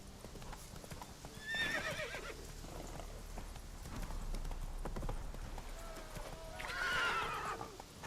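Roach, a horse in The Witcher 3, gallops with a rapid rhythmic clatter of hoofbeats, and the horse whinnies loudly twice over the running hooves.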